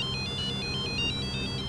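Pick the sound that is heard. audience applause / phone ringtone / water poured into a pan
phone ringtone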